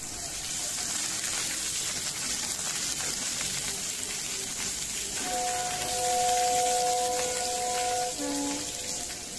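Whole garam masala, bay leaves and chopped onion frying lightly in hot oil for a chicken mushroom curry, giving a steady, loud, close sizzle that swells briefly midway, with a few faint tonal clinks and hums in the background.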